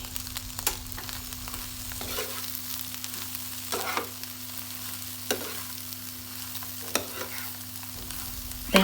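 Tomatoes with salt simmer and sizzle steadily in a pan for a snack, with faint bubbling and a few sharp clicks of a spoon stirring; a low steady hum runs underneath, with no talk.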